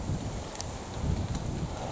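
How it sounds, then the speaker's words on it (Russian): Steady strong wind at the sea rushes and buffets the microphone, with a few faint rustles. "Вот такой ветер."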